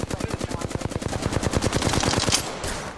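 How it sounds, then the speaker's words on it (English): Rapid automatic gunfire aimed at the player in a video game, a fast even stream of about thirty sharp close shots in quick succession that blur into a sustained burst near the end. "Getting shot at."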